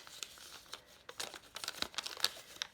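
Paper crinkles and rustles in quick, irregular bursts, close and fairly quiet, with no talking.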